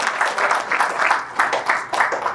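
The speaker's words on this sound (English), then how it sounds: "So please give the Tamil Association a big round of applause." An audience applauds at a community Deepavali celebration and anniversary event, a steady burst of clapping from a crowd with rhythmic swells, fairly loud and close, with no talk over it.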